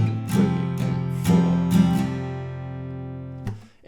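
An acoustic guitar strums the second line of a song's chord progression, four ringing strums with the last chord left to sustain, no voice.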